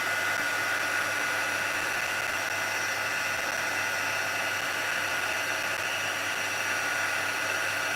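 A heat embossing tool runs steadily throughout, a loud, even, fan-like whoosh held for the whole stretch as it melts embossing powder on a stamped card.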